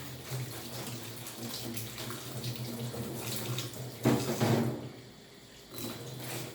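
Tap water runs steadily into a sink as an old, tarnished brass candlestick is rinsed, with a brief louder splash partway through and the flow continuing close and unbroken.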